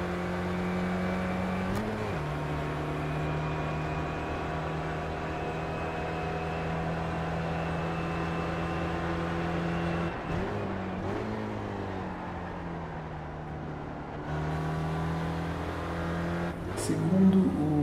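A Spec Racer race car engine in the iRacing simulator drones steadily throughout, with brief dips and shifts in pitch as the car lifts and accelerates through corners.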